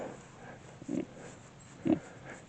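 Pigs lying down relaxed on a farm give two short, low grunts about a second apart, fairly close, with quiet outdoor background between them.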